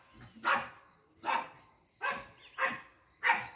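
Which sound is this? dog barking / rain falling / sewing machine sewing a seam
dog barking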